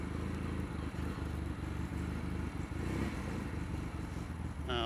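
A Royal Enfield Mk1 Interceptor motorcycle fitted with a belt drive and aftermarket clutch, heard while riding, its engine a steady low droning rumble, continuous and close, with wind noise over it.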